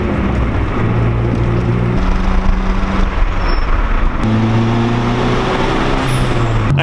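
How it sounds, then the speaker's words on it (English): A turbocharged Honda Civic EG hatchback cruises steadily, its engine a continuous, fairly loud drone heard from inside the car, with the pitch shifting slightly as it drives. "I'm just gonna drive around my neighborhood a little bit, warm it up, and then once it's warm, I'll do a couple pulls"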